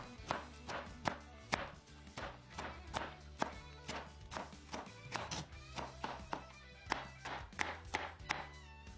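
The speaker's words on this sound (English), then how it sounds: "now we're gonna cut the tomato" A knife slicing a tomato on a cutting board, with a steady series of light, evenly spaced taps and thuds, close and fairly quiet, with no talking.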